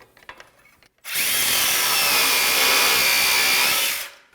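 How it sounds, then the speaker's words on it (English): A Makita 18V LXT brushless cordless X-Lock angle grinder grinding aggressively under torture testing; after a second of quiet handling it bursts into a loud, steady, high-pitched whine that holds for three seconds, then cuts off. "So that is not the proper way to grind"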